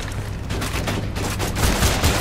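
Gunfire in the shooter game Borderlands 2 with a shotgun, a loud dense burst of overlapping shots and rumbling blasts layered over continuous battle noise, with no voices.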